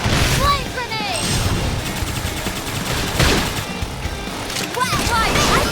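Flame grenade blast and rapid gunfire during a battle in the video game Xenoblade Chronicles X, dense loud bursts and booms layered over shouted character voices.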